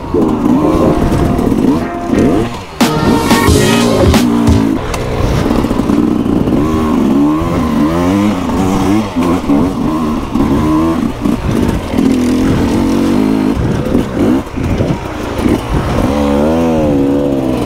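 Enduro motorcycle ridden off-road on a trail, its engine loud and close, revving up and down repeatedly with rapid throttle changes and clattering, running almost continuously across the clip.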